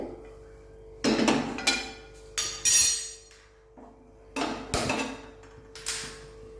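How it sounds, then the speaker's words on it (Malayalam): Kitchen clatter as a cheenachatti, a Kerala-style wok, is set down while cooking kozhukatta, a few loud metallic clanks and knocks in separate bursts with quiet gaps between, no talking. "അതിന് ഞാനിവിടെ ഒരു ചീനച്ചട്ടി അടുത്ത് വെക്കുന്നുണ്ട്"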